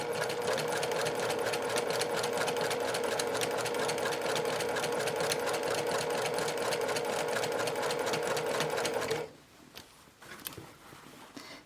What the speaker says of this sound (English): We're sewing next to the interior fold right here.